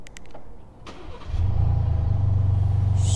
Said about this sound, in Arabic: سمعكم صوت قزوز